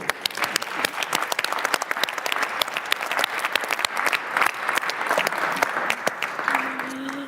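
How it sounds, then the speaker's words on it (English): A large plenary audience at the UNIDO General Conference claps together in a sustained round of applause, many hands making a crisp, even patter that stays steady before fading at the end. "Give yourselves a round of applause."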